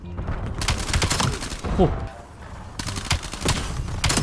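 Rapid automatic gunfire bursts from Call of Duty: Black Ops 7 multiplayer, loud repeated volleys with short pauses between them and a voice talking underneath.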